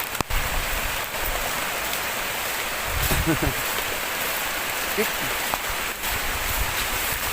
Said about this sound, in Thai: อ่าฝนกระตกแห้งๆ